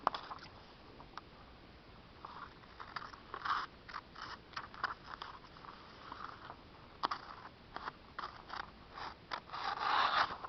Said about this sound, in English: So let me go ahead and cut that off real quick.